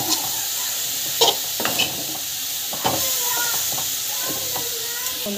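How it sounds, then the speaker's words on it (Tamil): Spices with chili powder sautéing in a pan on a home stove give a steady sizzle, with a spoon scraping and clinking against the pan now and then, close and continuous. "ஸோ நல்லா வந்து வதக்கி விட்டுக்கோங்க"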